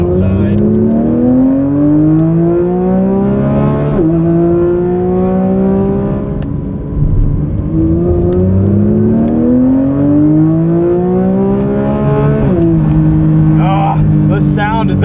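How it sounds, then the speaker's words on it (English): 2024 Porsche 911 GT3 engine on a track at a Porsche Experience Center, loud close revs climbing steadily through the gears with abrupt drops at each upshift, repeated several times as the car accelerates. "The sound is that those revs build is just insane"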